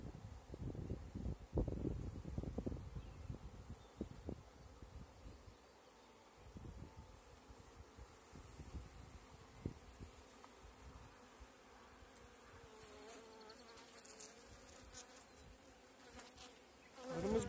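Honeybees buzz around an open hive during a May brood check, a steady close insect drone with some louder bursts early on and wind rumbling across the microphone.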